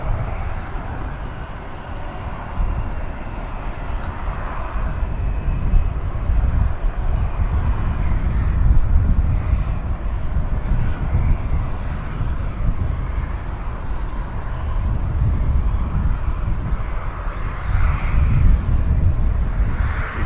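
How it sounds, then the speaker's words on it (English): A jet plane taking off from runway 18 at Dallas-Fort Worth (DFW) Airport produces a steady, distant low roar that swells and ebbs across the clip, with no voices. "Or 18 left, I think, for the takeoff."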